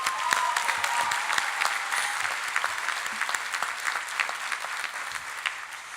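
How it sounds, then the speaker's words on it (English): A college commencement audience applauds its outgoing president, a steady wash of many hands clapping with individual sharp claps standing out close by, sustained throughout. "Round of applause for Garassi."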